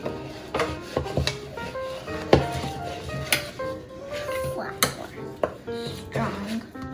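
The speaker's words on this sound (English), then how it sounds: "Next, you're gonna stir your mixture with your spoons" Spoons knock and scrape through a stiffening homemade play-dough mixture of flour in a bowl, an irregular series of close clacks and thuds with people talking between the strokes.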